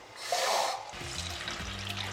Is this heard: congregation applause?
no